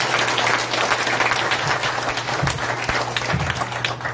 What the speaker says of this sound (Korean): 이걸 참 박수 한번 치십시오.